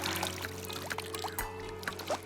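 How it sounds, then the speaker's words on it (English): Water draining out of a container during river herring collection, a soft continuous trickling pour with small bubbling gurgles and splashes, close and quiet over a faint steady hum. "You can let as much water drain out."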